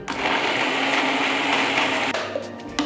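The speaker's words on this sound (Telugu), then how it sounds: "ముందు మనం నీళ్లు యాడ్ చేసుకోకుండా ఒక్కసారి మిక్సీ పట్టుకోవాలి" A mixer grinder whirs loudly and steadily as it grinds roasted chutney ingredients without water, then cuts out near the end, leaving a few faint knocks.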